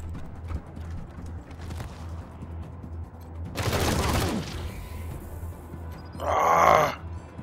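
A burst of gunfire in the combat of Wasteland 3 erupts midway, a dense crackling volley, followed later by a second sharp, bright blast over a low ambient game drone.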